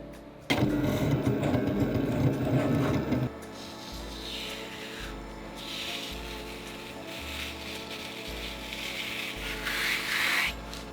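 An electric fabric cutting machine cuts monogram shapes from fabric on a grip mat, first a loud grinding burst, then a steady mechanical hum with rhythmic low motor pulses and occasional higher whirring sweeps as the carriage moves.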